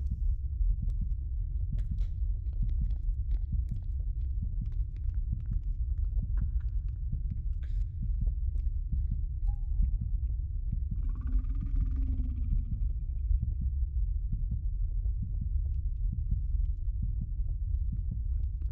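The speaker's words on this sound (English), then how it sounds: "Do I hear my own heartbeat on the ground?" A low, steady heartbeat throb pulses through a creepy game, Backrooms: Escape Together, forming a dull rumbling layer with a few faint higher tones and scrapes drifting over it, no voices.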